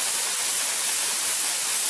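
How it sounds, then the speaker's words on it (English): An airbrush sprays primer at low pressure onto a 1:24 Aoshima K.I.T.T. plastic model kit, making a steady, close, continuous hiss with no breaks and no voices. "Now I'm just going to go over this with just low pressure. Now I'm not spraying out very much."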